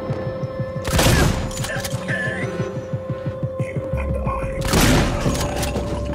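Shotgun blasts in the sci-fi survival horror game Alien: Isolation, two loud broadband bursts a few seconds apart over a steady ambient hum and rhythmic throbbing game music.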